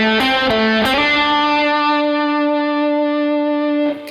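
Distorted electric guitar plays a short lick: a few quick picked notes, then one note sustained and ringing out for several seconds before a final pick.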